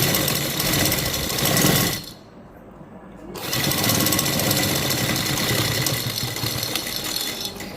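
A sewing machine stitches piping onto a neckline in a steady, continuous whir, with a brief quieter pause partway through before the stitching resumes at the same close, even pace.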